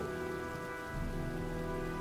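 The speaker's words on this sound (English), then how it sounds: "It's been raining nonstop for days." Steady heavy rain pours down in the video game Heavy Rain, a dense unbroken hiss of drops on surfaces, loud and close, with no voices over it.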